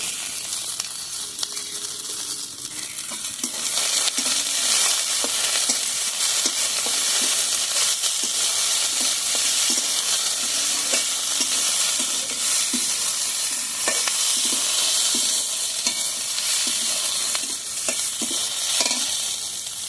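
Small sliced carrots go into a hot pan with diced potato for a flattened-rice pilaf, giving a steady close sizzle and frying hiss with repeated light scrapes and clinks of stirring throughout.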